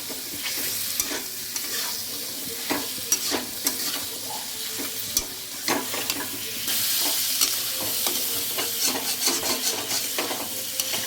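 Turmeric and chilli powder are fried and stirred in a pan, a continuous sizzle broken by frequent sharp scrapes and knocks of a spatula at an uneven rhythm, close by.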